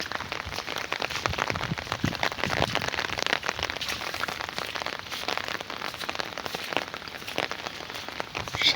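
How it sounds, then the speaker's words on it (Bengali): Light rain patters steadily over an open village field, a soft, even hiss of drops with no voices. "নর্মালি গুটি গুটি বৃষ্টি পড়তেছে"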